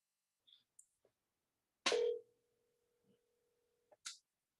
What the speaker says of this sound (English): while it's ringing,